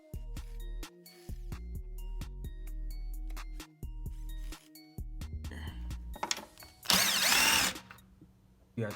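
A power drill running in reverse whirs in several short bursts with pauses between, then a harsher grinding burst near the end; close and fairly loud, removing screws during an oil cooler O-ring repair on a 2011-2020 Dodge Charger V6.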